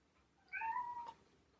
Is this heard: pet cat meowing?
yes